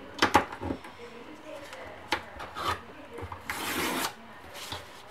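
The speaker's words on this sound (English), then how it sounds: "So what I'm doing is I'm taking this metal ruler, putting it to the edge at like half an inch," Paper is torn along the edge of a metal ruler in several short rips and rubs, with one longer tear near the end, quiet and close against a faint background.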